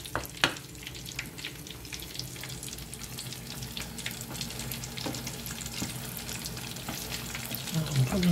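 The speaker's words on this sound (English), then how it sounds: "So we're just gonna mix them in so that they are covered in the sauces." Tomatoes fry in sauce for Sri Lankan devilled prawns, a soft steady sizzle with scattered scrapes and clinks of a spoon stirring the pan, fairly quiet and close, with no talking.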